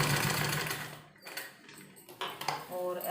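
Rapid mechanical stitching of a sewing machine sewing a trouser, a close, fast clatter that pauses briefly and resumes in short bursts, with a voice talking over it.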